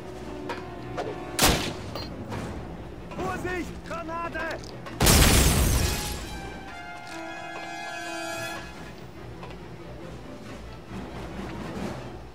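Grenade blasts in the video game Call of Duty, one sharp bang then a louder booming explosion that rings out with a tonal hum, with people talking in French around it.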